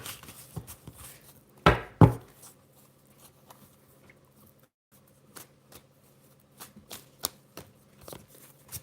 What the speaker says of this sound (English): one more quick shuffle off